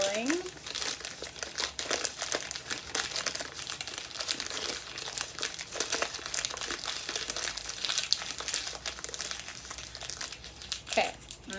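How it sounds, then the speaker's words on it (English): Paper or foil crinkled and rolled by hand into a rugged craft stick, a steady close-up crackling and crunching that runs throughout, with light scrunches and a brief voice near the end. "So again, just crinkling and rolling"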